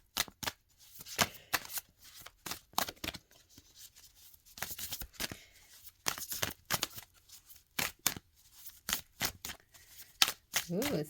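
A deck of cards is shuffled by hand in a quiet room, with repeated crisp riffling bursts in quick uneven runs, close and clear.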